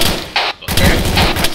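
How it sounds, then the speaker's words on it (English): Machine-gun fire in Arma 3 during a military operation toward a tree line, dense and loud, with sustained bursts broken by a brief pause. "I need those guns to be shooting direct south into the tree line."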